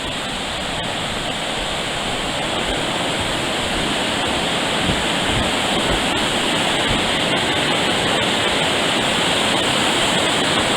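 Loud, steady rush of the fast-flowing east branch of the Pemigewasset River beneath a suspension bridge fills the whole stretch, a constant broad roar with no pauses or voices.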